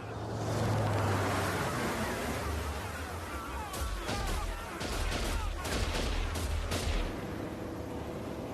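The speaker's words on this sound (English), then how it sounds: "People are just shooting at the bugs, not knowing what they're shooting at." Movie-scene gunfire as people shoot at bugs: bursts of rapid shots crackle over a dense, roaring background wash of constant noise, loud throughout.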